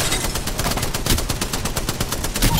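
Rapid automatic gunfire from an Apex Legends firefight, a dense continuous stream of loud shots with no pauses across the whole stretch.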